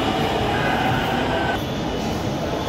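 Dhaka metro rail train running, a steady loud rumble with a high whine that stays constant throughout and shifts slightly partway, with no voices.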